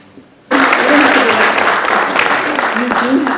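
Audience applause after a poem is read aloud at a poetry recitation event: after a quiet moment, clapping bursts in suddenly and stays loud and dense to the end, with a voice speaking faintly beneath it.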